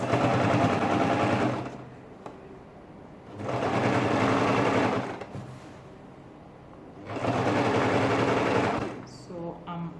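A sewing machine stitches a ladies' shirt dress in three long runs of fast, even mechanical whirring, with quieter pauses between them where a voice may be speaking.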